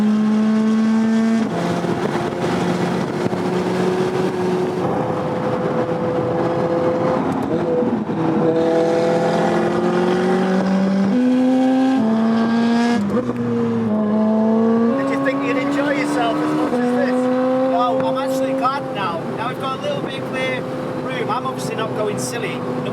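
A borrowed car driven on a road trip, its engine note steady and rising through gear changes as it pulls along the road, with tones stepping up and dropping; people talk over it throughout.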